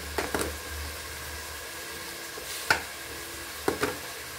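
Onions and tomatoes salted and sautéing in a pan for vegetable biryani, a steady soft sizzle with a few sharp clinks of stirring, no talking.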